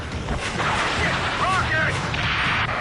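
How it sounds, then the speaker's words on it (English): A rocket blast erupts in a video game battle, a loud broad boom and crackling debris layered over constant combat din, with shouted voices and a brief whistling sweep in the middle. "Rocket!"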